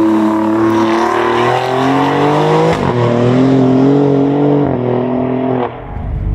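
Alfa Romeo Giulia Quadrifoglio sports car being driven, its engine note rising and falling through several gear changes with clear harmonic revving, loud and close, no talk.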